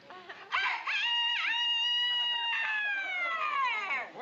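A man imitates a rooster's cock-a-doodle-doo with his voice in a comedy scene set at a bank, one long close crow with rising and falling pitch, alone without other talk.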